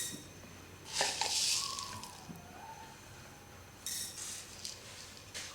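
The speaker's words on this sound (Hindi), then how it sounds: "2 खाने के चम्मच साबुत धनिया मैं पैन में डालती हूँ।" Whole coriander seeds poured into a thick metal pan, giving a brief scattering rattle, then a second, quieter shower of seeds a few seconds later.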